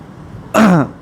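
A single short, rough throat clearing, a quick harsh cough-like burst in an otherwise quiet room.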